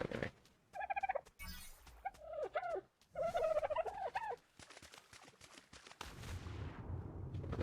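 Game birds in ARK: The Island give several loud gobbling, turkey-like calls in quick bursts, each with stacked warbling tones, ending in a broad noisy rush.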